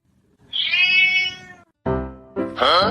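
A cat gives a loud, drawn-out meow close by, then after a brief pause lets out two shorter, rising cries.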